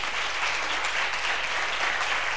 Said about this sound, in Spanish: el mayor de los aplausos debe de ser para vosotros.